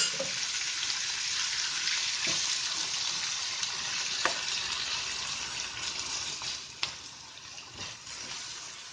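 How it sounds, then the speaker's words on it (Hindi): Chopped onions frying over a light flame in a pot for chana dal fry, giving a soft continuous sizzle with a few faint clinks and scrapes, no voices. "अब इसमें ये चॉप की हुई प्याज डाल देनी है।"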